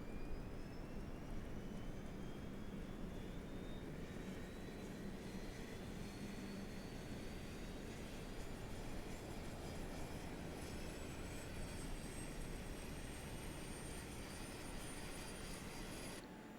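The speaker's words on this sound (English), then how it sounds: "So we'll go ahead and get the APU on here." An aircraft APU in Microsoft Flight Simulator runs as a steady, even turbine roar with a slowly rising whine, continuous and unbroken with no voices.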